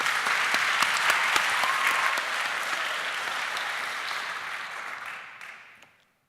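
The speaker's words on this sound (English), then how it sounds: "Give them a round of applause." Loud audience applause at a startup pitch competition final, dense clapping held steady for several seconds before tapering off and fading out to silence.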